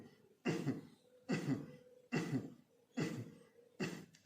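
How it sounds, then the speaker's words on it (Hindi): Deliberate, forceful coughs during a Kapalbhati yoga breathing exercise, five evenly spaced short bursts close to the listener, each followed by a soft inhale, with no talking. "आपको दिक्कत आती है करने में तो थोड़ा सा इसको खांसी करके भी कर सकते हैं"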